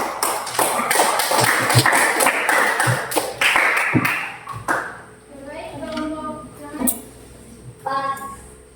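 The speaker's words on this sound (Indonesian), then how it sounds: "Tepuk tangan dulu untuk" Students in a classroom clap in a burst of sharp, overlapping hand claps that fade after a few seconds, followed by scattered taps and thumps with children's voices speaking.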